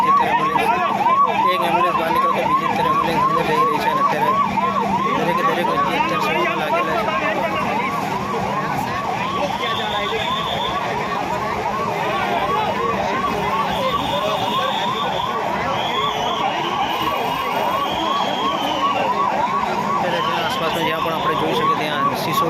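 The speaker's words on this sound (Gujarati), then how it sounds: "ફાયર બ્રિગેડની ગાડીઓ દરેકે દરેક અત્યારે અત્યારે કાર્યરત છે એમ્બ્યુલન્સો પણ દોડી રહી છે" A loud, continuous wailing ambulance siren rises and falls in quick cycles, with traffic noise and people talking underneath, at the scene of a plane crash in Ahmedabad.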